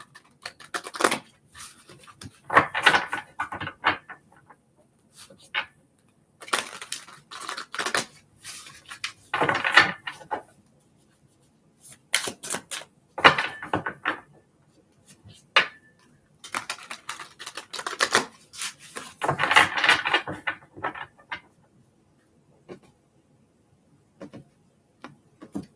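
Tarot cards riffled and shuffled in quick papery bursts, several rounds separated by short pauses, close up with no talking.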